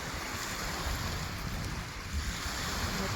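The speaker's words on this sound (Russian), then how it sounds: "Вот такая волна." Waves lapping steadily on a lake shore under overcast skies, a continuous close wash of water mixed with heavy wind buffeting the microphone throughout.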